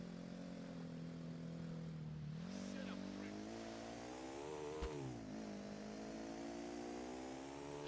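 Motorbike engine in Grand Theft Auto IV, a steady droning hum that rises and falls in pitch as the bike revs, with one sharp knock midway and faint game ambience throughout.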